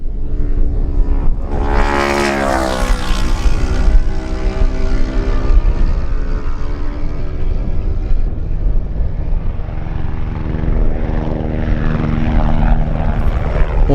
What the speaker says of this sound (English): Roger Wibberley on his Suzuki, number 12, arrives, pursued by James Hind on his Yamaha.